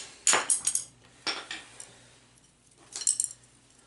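A knife cuts into and splits a small wooden stylus stick with a few sharp, close clicks and cracking snaps, set apart by brief pauses.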